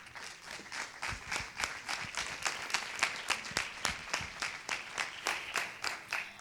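An audience at a Foro 4IS panel on migrant women applauds, a brisk run of clapping settling into a strong, even, rhythmic beat, moderately loud and without voices.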